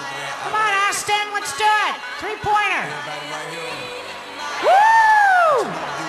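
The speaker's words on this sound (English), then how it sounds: "come on, Buckeye fans, let's cheer them on" A crowd of Buckeye fans cheering during a timed shooting challenge for free tuition, with loud whoops, yells and a long rising-falling shout, all close and energetic.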